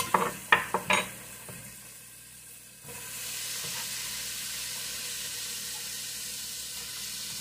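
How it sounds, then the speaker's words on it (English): Chopped onion drops into a soup pot with a few sharp clatters, then a quiet pause gives way to a steady, soft sizzle and hiss that carries on to the end. "Now I'm going to add in some fresh onion."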